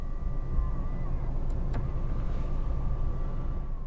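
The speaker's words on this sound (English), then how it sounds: "the mirrors will fold in" Electric side mirrors on a Nissan Qashqai folding in, a soft whirring motor hum lasting a couple of seconds inside the car over a steady low cabin rumble, with a brief click partway through.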